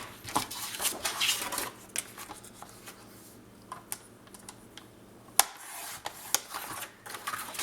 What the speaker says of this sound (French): Je vais couper ma bande.